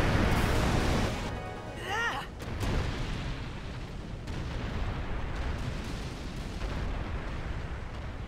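Heavy rumbling explosions and crackling blasts in the game Final Fantasy X, with a brief whooshing effect and a dense, continuous low roar.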